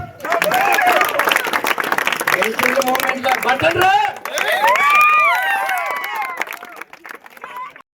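A crowd claps at a Sankranti BPL cricket event in Bangarupeta, Venkatagiri municipality, with dense, rapid clapping mixed with loud shouts and voices that rise and fall before tapering off near the end.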